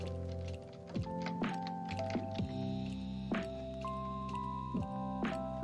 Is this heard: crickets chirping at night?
no